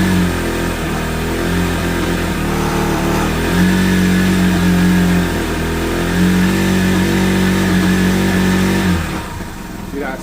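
A Lexmoto Isca 125 motorcycle, which has a bogging problem, is revved and held at a steady high pitch for several seconds, loud and close, then drops away near the end.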